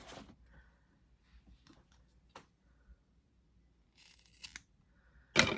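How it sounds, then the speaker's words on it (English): Scissors cut hair off a theatrical stage beard in a few faint quiet snips spread apart, with one sharper, louder snip at the end. "we're going to cut about 4 inches off of here"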